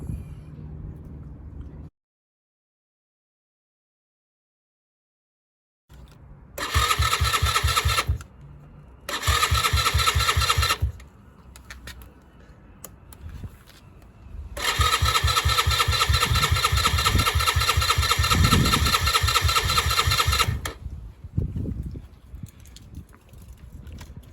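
A Lexmoto Adrenaline motorcycle with a freshly cleaned carburettor cranks repeatedly without catching. Several loud, close starter-motor bursts of uneven churning follow a silent stretch, the longest running for several seconds, with quieter gaps in between.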